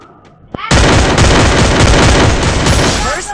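Rapid gunfire in a mobile shooter game, a burst starting abruptly after a short quiet lead-in and holding loud and dense for nearly three seconds before cutting off.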